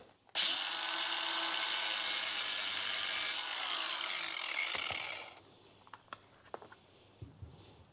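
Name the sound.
cutting through a metal band clamp on a CV boot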